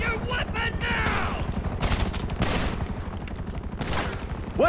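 Dense crossfire of automatic and single gunshots in Grand Theft Auto 5, rapid bursts hammering throughout with shouting voices cutting in over the shooting.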